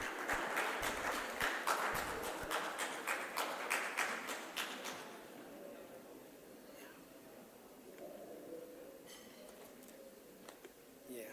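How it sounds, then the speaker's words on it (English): A conference audience applauds to welcome a speaker, with a burst of scattered clapping that fades after about five seconds into quieter room noise and a few faint later claps. "Please let's welcome him with a round of applause."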